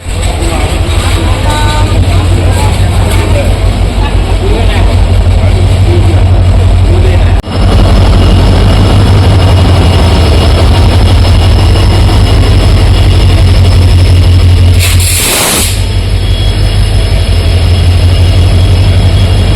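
A train pulls into a busy railway station with a loud, continuous heavy engine drone and rail rumble, broken by a sharp clatter midway and a brief hiss later, while people talk nearby.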